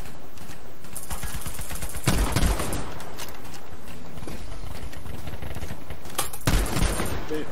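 Shotguns fire in rapid succession in the shooter game Battlefield V, two heavy blasts standing out among a busy stream of gunfire and battle noise.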